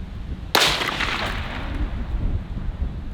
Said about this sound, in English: what it sounds like when the bullet comes in, and then the sound of the gunshot